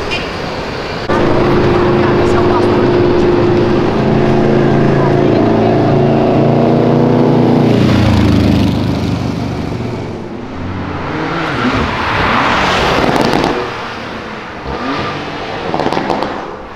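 A car engine roars as the driver downshifts and slows on an avenue, a strong revving drone that swells then fades, followed by passing road noise and faint voices.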